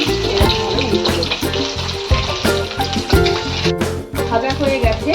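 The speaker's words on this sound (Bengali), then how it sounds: "আর এই একই রকম ভাবে সব ডিমগুলো আমি এইভাবে ভেজে নেব" Eggs frying in mustard oil in a pan make a steady, loud sizzle with a rhythmic low clatter throughout, and a brief stirring scrape partway through.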